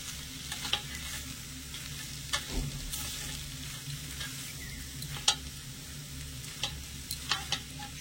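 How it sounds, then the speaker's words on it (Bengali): Quiet, steady sizzle of potatoes frying in a pan, punctuated by occasional sharp clinks and scrapes of stirring. "আলুটা মশলার সাথে মিশিয়ে একটু ভাজা ভাজা করে নেব"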